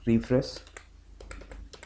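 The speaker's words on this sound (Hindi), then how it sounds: "यहाँ पे एक टेक्स्ट टाइप कर देता हूँ" Typing on a computer keyboard while entering text into an Excel sheet, a few close, light key taps following two brief bursts of speech.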